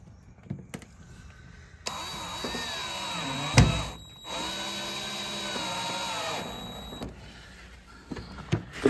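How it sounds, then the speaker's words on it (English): A power drill drives screws during a Camaro restoration, whirring in a few steady bursts with short pauses between, close and moderately loud, with no talking. "Screwing it in now."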